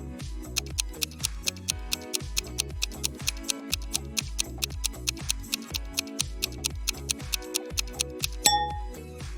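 A countdown timer to an explosion ticks in a fast, even rhythm, roughly three ticks a second, close and clear with no talking, ending in a brighter metallic clink near the end.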